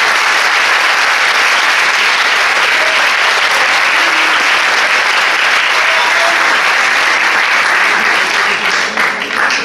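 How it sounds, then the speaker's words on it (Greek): Loud, dense audience applause for the dancers at a music and dance performance. The clapping is continuous and close, sustained for nearly ten seconds with no break. "ένα χειροκρότημα για αυτά τα παιδιά."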